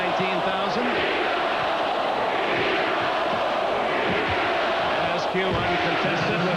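Arena crowd of 19,000 at a 1993 NBA Western Conference Finals game chanting "Beat the Bulls," a loud, rhythmic roar of massed voices filling the space, with a commentator speaking over it.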